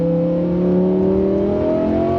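Lamborghini Huracan in Corsa mode pulling hard, its engine note climbing smoothly in pitch through a short burst of acceleration, loud and close, with no voices.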